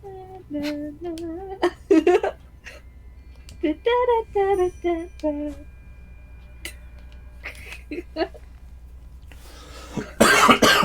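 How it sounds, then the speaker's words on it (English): Coughing from a character in the video game Hollow Knight: a series of short, raspy bursts spread across the stretch, mixed with voiced, tonal game sounds and ending in a dense noisy flurry. "Coughing and dying."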